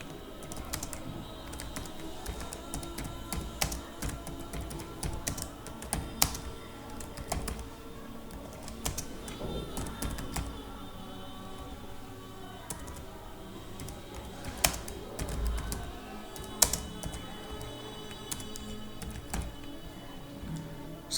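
Computer keyboard typing while filling out a university application form, with soft, steady key taps and occasional sharper clicks over a low background hum across the whole stretch.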